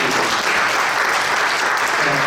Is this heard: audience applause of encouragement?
yes